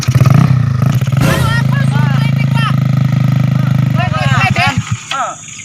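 A racing motorcycle at the Kandi circuit revs loudly and continuously, its droning engine note wavering up and down while people talk and shout over it close by.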